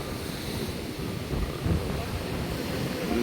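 Rough sea waves rolling and crashing under strong wind buffeting the microphone along a fishing shore, a steady roar with someone speaking over it.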